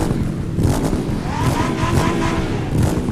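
A 2015 Indian Scout motorcycle engine revs in the racing game The Crew 2, a steady throaty drone with a few rises in pitch and no voices over it.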